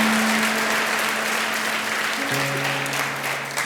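Church congregation claps together in a full, steady burst of applause while sustained keyboard notes hold and shift beneath it, the clapping staying loud and even throughout.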